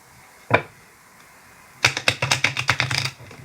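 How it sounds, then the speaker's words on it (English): Tarot cards being shuffled by hand: a single soft flick, a pause, then a quick run of crisp riffling snaps close up and alone. "I'm going to do a quick shuffle."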